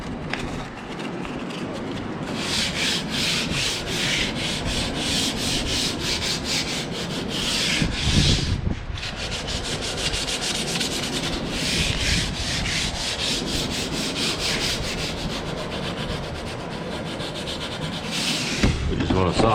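Hand sanding the freshly trimmed edges of a door with a piece of 180 grit sandpaper: close, continuous rasping strokes with a quick back-and-forth rhythm and no pause throughout, with no talking.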